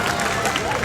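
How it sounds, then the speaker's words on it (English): Audience applause rings out at a sea lion show at Como Zoo, a short burst of dense clapping and crowd noise filling the space with a faint murmur of voices underneath. "She's got that applause cue trained down really well"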